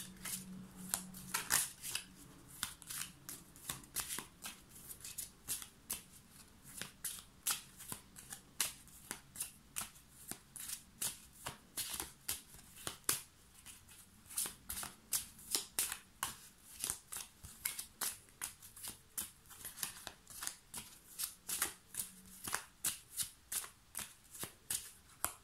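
Tarot cards shuffled by hand, a long run of crisp, rhythmic riffling snaps repeating steadily and close up, with no talking.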